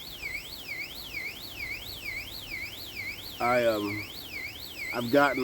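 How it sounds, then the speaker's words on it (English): Motion detector alarm warbling steadily in a repeating rising-and-falling tone at moderate distance outdoors, continuing under a man's speech near the end. "That's one of my motion detectors going off over here on the other side of my property"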